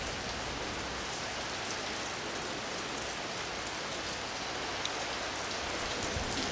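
Rain falls steadily on the courtyard around St Mark's Square in Venice, a soft, even hiss of drops on stone that holds constant throughout with no voices.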